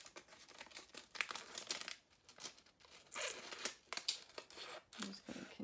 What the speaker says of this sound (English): If you just get your scissors right next to the edge, it trims really very easy here.